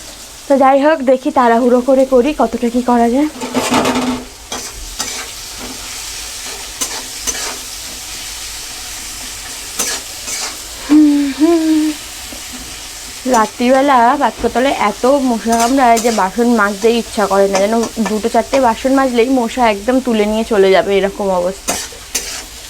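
Food frying in a pan in a home kitchen sizzles loudly and is stirred now and then. A voice talks over much of it, and the frying is heard alone only in short gaps.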